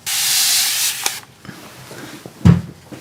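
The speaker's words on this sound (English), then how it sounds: "I need to spray these, they're starting to dry out." A spray bottle mists water over acrylic paints on a palette, a loud steady hiss lasting about a second, followed by quieter handling noises and a short burst near the end.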